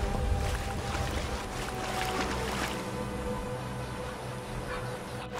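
A horse swims through water in modded Skyrim, making steady sloshing, paddling splashes over a continuous watery rush that stays fairly loud throughout.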